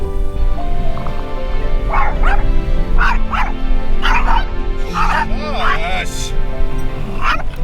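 Dogs bark and yip in quick, repeated bursts during a morning drive on the wildlife loop of Custer State Park, loud and close over a constant low vehicle hum, with some whimpering between the barks.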